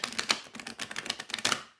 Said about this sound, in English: Here's the riffle shuffle.